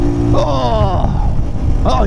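A Rieju Marathon 125 AC SM motorcycle engine runs steadily while riding, its tone rising and falling with throttle changes and wind noise close by, with a brief rev near the end.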